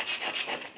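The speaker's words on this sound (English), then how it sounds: "The carbide scraper works." Carbide scraper dragged across a concrete floor, giving a brief, close rasping scrape in a few quick pulses.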